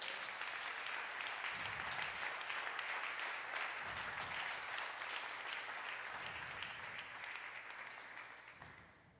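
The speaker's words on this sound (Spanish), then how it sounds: "con eso le damos un fuerte aplauso al Señor" A church congregation gives a loud, sustained round of applause to the Lord, dense clapping that fills the room for several seconds before gradually thinning and fading out.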